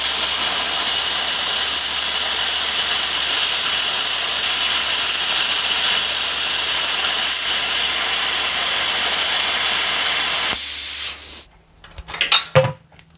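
A Simder CUT 50 plasma cutter runs on 110 volts, a loud steady hiss of cutting metal for about ten seconds, then it cuts off abruptly and a few faint clicks and clatters follow.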